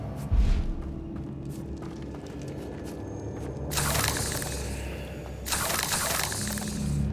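Bombarda blasting spells in the Hogwarts Legacy video game: two loud, crackling, debris-scattering bursts, each lasting over a second, over a low ambient game rumble with no talking.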